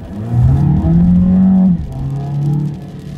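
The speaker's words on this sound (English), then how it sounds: "It does sound like it's, you know, revving up, like right now." Engine of a 2015 Dodge Dart revving up inside the cabin, rising in pitch with a whiny tone, easing off, then climbing again in a second shorter rev, loud and close with no talking.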